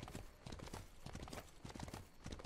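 Hoofbeats of a horse galloping in a competitive ranked duel video game, a steady rapid clip-clop rhythm running throughout at close range, with game effects layered over it.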